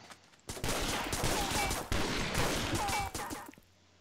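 Video game gunfire bursts in a dense, loud volley of rapid shots that runs for about three seconds before cutting off, with no speech over it.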